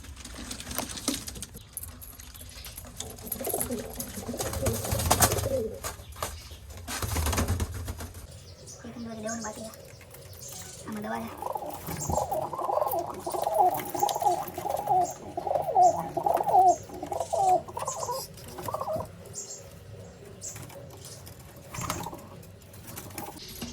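Pigeons coo in a soft, repeated throaty rhythm close by in a breeding setup, after some rustling and handling noise as a pigeon is given medicine, with faint voices in the background.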